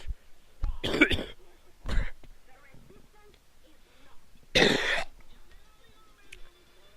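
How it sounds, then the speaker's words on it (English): Hard, harsh coughing bursts from a man playing Tropico 3, two clusters of loud close coughs separated by a pause, with some quieter talk in between. "that was pretty hard coughing on my part"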